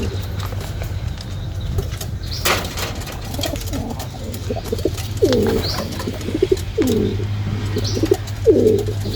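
Pigeons coo repeatedly inside a loft, a series of soft, rhythmic throaty calls close by, with light rustling and occasional wing flaps over a low steady hum.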